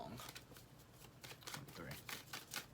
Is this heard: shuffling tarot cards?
yes